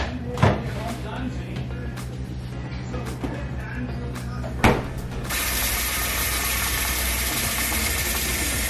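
A refrigerator ice dispenser grinds and ratchets as it crushes ice, with sharp clunks as pieces drop, followed by a steady rushing whir from the mechanism.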